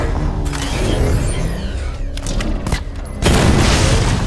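Chain gun fire in the Batman: Arkham Knight video game, loud booming bursts of rapid gunfire with mechanical clatter, one sharp break near the end and then a harder, brighter burst.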